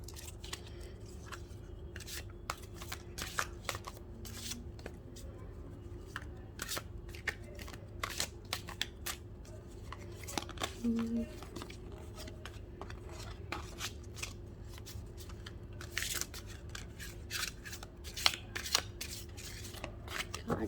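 Tarot cards shuffled by hand in repeated crisp riffling bursts with short pauses between, close and clear against a quiet room, with a brief low murmur at one point.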